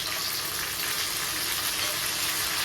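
Chopped onions sizzle steadily in hot oil in a pan, a continuous close crackling hiss with no voices, as tomatoes are about to go in for a chicken curry.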